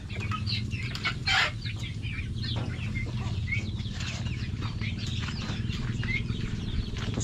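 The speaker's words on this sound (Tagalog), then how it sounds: "Dito may nangingitlog. Ay, naglilimlim na." Chickens on a backyard farm, including a hen brooding on eggs, give soft scattered clucks and brief wing flaps against a quiet rustling background.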